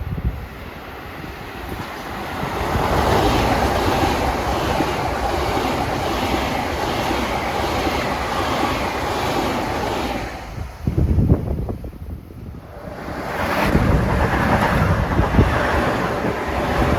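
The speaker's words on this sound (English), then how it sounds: "Approaching at 431 is train 1542, Grand Central to New Haven." Amtrak train 1542 from Grand Central to New Haven approaching at Mamaroneck, a broad rushing roar under heavy wind buffeting that swells over several seconds, dips briefly, then surges again.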